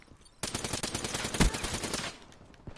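A single rapid burst of close automatic gunfire in a shooting video game lasts about a second and a half, then fades into quieter background sound.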